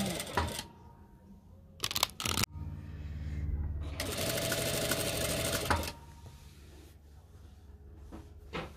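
A sewing machine runs in bursts while stitching khimar fabric at a 2.5 stitch width, with short runs, one longer steady stretch of several seconds, and pauses between them.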